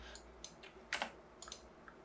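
Several sharp, quiet clicks from a computer mouse at a CAD workstation running Inventor 2022, spaced irregularly with one stronger click near the middle, no talking.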